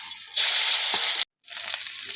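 Fish rubbed with salt and turmeric fry in hot oil in a wok, a loud, close, steady sizzle that cuts out abruptly for a moment, then resumes more softly.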